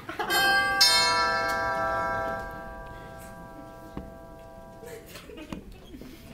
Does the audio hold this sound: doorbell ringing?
yes